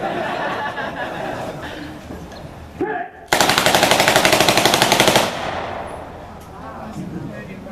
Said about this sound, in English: 30 rounds downrange. True Japanese firepower.